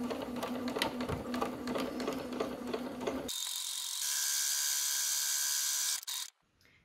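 A domestic sewing machine stitches a straight seam on fabric, a close, fast rhythmic mechanical patter running for about three seconds, then giving way to a higher steady whirring before stopping.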